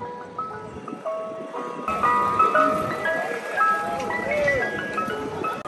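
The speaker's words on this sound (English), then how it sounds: "Yeah, there's an ice cream truck at practice." An ice cream truck's music-box jingle plays at a sports practice, a bright looping melody heard fairly clearly, with people talking over it.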